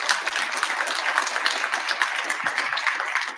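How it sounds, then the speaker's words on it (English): Audience applause at a university distinguished entrepreneur talk, a steady, dense wash of clapping from a crowd that holds evenly throughout. "That should be worth a round of applause."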